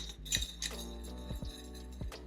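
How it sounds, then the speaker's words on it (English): Utensil clinking against a pan while stirring a sweet glaze sauce for air fryer salmon bites, a few light scattered taps and scrapes over a steady background hum, close and fairly faint. "make sure you are continuously stirring."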